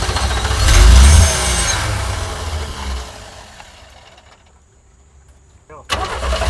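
1983 GMC Squarebody pickup engine cranking and trying to start, a loud close churning burst that fades off without catching, with people talking around it.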